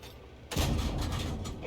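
Tank cannon fire in the Valiant video game: a sudden heavy boom hits partway through, then a loud rumbling roar holds steady to the end.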